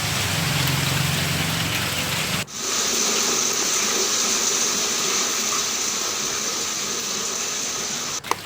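Heavy rain in Uttarakhand pours in a steady, dense hiss, loud and continuous, with two brief dropouts breaking the wash of sound.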